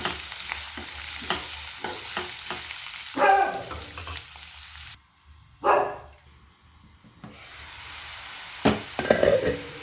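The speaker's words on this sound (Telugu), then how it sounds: "ఆనియన్స్ కలుపుకున్న తర్వాత రెండు మూడు నిమిషాలు మగ్గనియాలి" Onions sauté in a pan for a raw mango curry, a low frying hiss with stirring scrapes, while a few short barks from a dog ring out over it.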